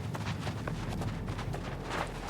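Horse hooves clip-clopping in the New World video game, a quick, steady trot of hoofbeats over a low rumbling game background, at moderate volume with no talking.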